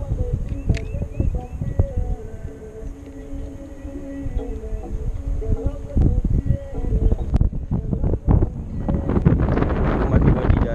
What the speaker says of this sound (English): Might be windy, guys. Sorry about that.